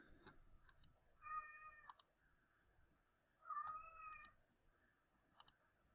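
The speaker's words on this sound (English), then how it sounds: "Hello kitty, what's up?" A cat meows twice in a quiet room, each call a drawn-out mid-pitched cry, with soft clicking sounds scattered between them.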